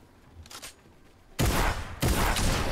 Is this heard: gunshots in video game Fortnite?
yes